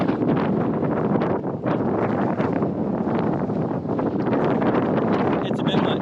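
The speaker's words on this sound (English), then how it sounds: "it is so freaking windy here" Strong wind roaring steadily at a desert canyon overlook on Utah's White Rim Trail, continuous loud buffeting across the microphone with gusts throughout.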